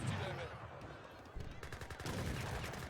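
A Gatling gun fires in a strategy video game, heard as quiet rapid rattling bursts mixed into dense battle noise under other game sounds.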